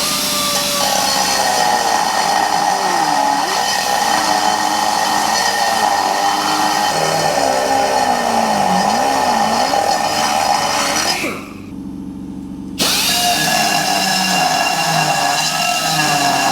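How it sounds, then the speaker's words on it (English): Loud, continuous angle grinder cutting a hole to fit a speedometer on a Triumph America motorcycle, running steadily with a wavering pitch, briefly easing off near the end before resuming at full strength; no talking. "all I've done was cut as close as I could with the angle grinder"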